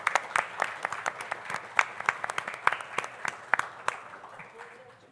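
Audience clapping in a lecture hall after a talk on religious intolerance and the persecution of Afro-Brazilian cults, a steady burst of many hands that fades out toward the end.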